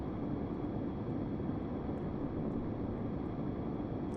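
Steady broadband drone of a plane flying in the Stormworks game, continuous and fairly loud with no talk over it, the engine and airflow holding an even level throughout while the aircraft skids and is corrected with rudder.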